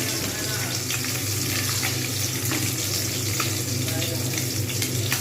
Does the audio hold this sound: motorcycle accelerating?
no